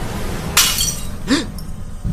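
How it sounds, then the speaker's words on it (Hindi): A glass bottle drops to the floor and shatters: one sharp crash with a bright splintering burst, then a second smaller clink of glass shards a moment later, close and loud against a quiet room. "शीशे की बोतल अचानक जमीन पर गिरकर टूट गई"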